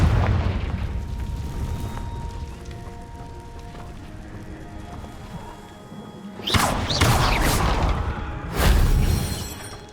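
Confringo explosive spell cast in Hogwarts Legacy, a rumbling fiery roar that settles, followed by two sharp bright blasts a couple of seconds apart, each with a crashing burst and decaying tail, loud and close, no talking.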